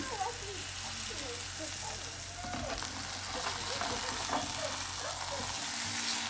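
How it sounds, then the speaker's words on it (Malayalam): Chicken pieces frying slowly in two tablespoons of sunflower oil in a pan, a steady close hiss and crackle lasting throughout, with a voice talking over it. "സൺഫ്ലവർ ഓയിലാണ് ഒഴിച്ചിട്ടുണ്ടായത് രണ്ട് ടേബിൾ സ്പൂണേ ഒഴിച്ചിട്ടുള്ളൂ ഇനി ഇത് ഇട്ട് കൊടുക്കുകയാണ് പതുക്കെ വേവിച്ചെടുക്കണം"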